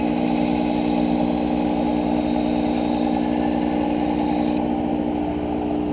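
Work Sharp Ken Onion electric knife sharpener running on a blade, a loud continuous motor whine and belt grind, steady throughout before dropping in brightness near the end.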